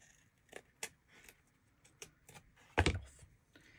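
Scissors trim paper for a 3D mixed media project, giving a few faint, separate snips and then one louder, sharper cut near the end, close by in a quiet room.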